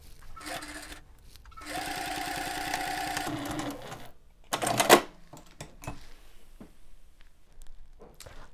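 A sewing machine stitches a fabric zipper pouch in short runs, a fast mechanical whirring chatter for a couple of seconds, then quieter handling clicks and a brief burst of rustling close by.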